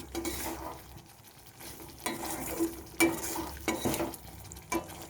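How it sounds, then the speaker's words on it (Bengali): Fried paneer and tomato being stirred in a hot pan: a low sizzle runs underneath while a spoon scrapes and clinks against the metal in several separate strokes, close and fairly quiet. "এইভাবে আমি নেড়ে চেড়ে নেব।"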